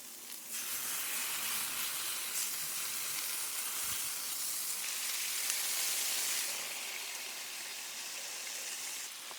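Bacon strips sizzle on a flat iron griddle during an outdoor breakfast cookout, a loud, continuous, crackling hiss that swells slightly midway and stays steady throughout with no voices.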